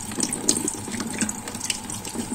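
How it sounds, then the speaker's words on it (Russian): Tap water runs steadily into a sink while small sprat fish are rinsed under it, a continuous close splashing stream with light irregular spatters. "Теперь ее нужно промыть под проточной водой."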